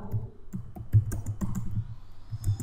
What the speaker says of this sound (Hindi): मैंने यहाँ पे ये टाइप कर लिया है।